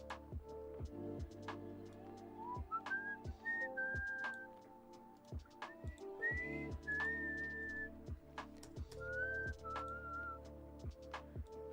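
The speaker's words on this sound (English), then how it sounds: "I bet it's lovely to listen to someone whistle into a microphone" A person whistles into a microphone during a live stream, a close, clear melody of short rising and falling notes over a steady droning background with intermittent clicks.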